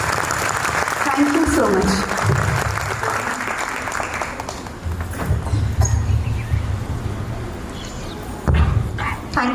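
An audience at a school's annual day celebration applauds to welcome a guest, with dense, steady clapping in the first few seconds that fades as a voice begins speaking over the hall's background noise.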